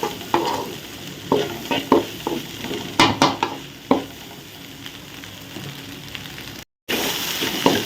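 Masala stir-fried over high heat in a pan for idiyappam kothu, with close scraping and stirring strokes in irregular bursts over a soft steady sizzle.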